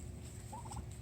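A male turkey, a farm tom named Jake, lets out a short rapid gobble at moderate distance, a quick burst of warbling notes over light outdoor background noise.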